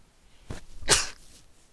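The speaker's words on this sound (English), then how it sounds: "I have to sneeze right now." A single sneeze, a short intake followed by a sharp, forceful burst, close and alone.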